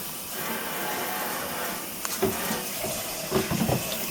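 Tap water runs steadily over a freshly dressed chicken in a sink, a continuous hissing splash with a few brief knocks and splatters near the end.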